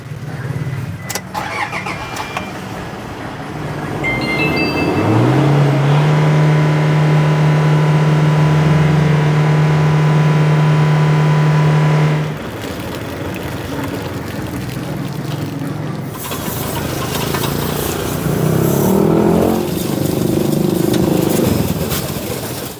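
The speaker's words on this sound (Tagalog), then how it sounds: "Ako ngayon ang mag-accelerator" A car engine revs hard for several seconds as the accelerator is pressed after a muffler cleaning, holding a loud steady roar before dropping back to a rough idle, then rising again briefly.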